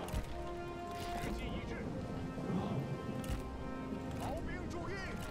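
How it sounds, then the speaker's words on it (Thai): Rain and thunder in the Total War: Three Kingdoms strategy game, a steady rushing rain hiss with a low rumble running beneath continuous talking. "แล้วฝนตกอีก"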